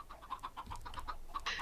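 Chickens clucking in the Minecraft Pixelmon video game, a series of short repeated clucks and squawks at moderate volume, with no talk over them.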